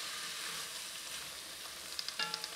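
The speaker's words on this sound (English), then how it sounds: "Okay, now one more stir." Vegetables stirred in a soup pot of Tuscan bean soup while they sizzle steadily, with a few light scrapes near the end and no talking.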